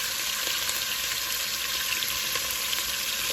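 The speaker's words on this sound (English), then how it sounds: "we're gonna just sear it for like a couple of minutes on each side" Meat sears in hot oil in a pan for a pot roast, giving a steady, even sizzle with small pops, close and fairly quiet, with no talking.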